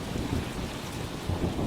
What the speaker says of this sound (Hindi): इसी तरह बारिश लगातार पड़ती रही।